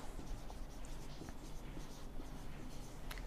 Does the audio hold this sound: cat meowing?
no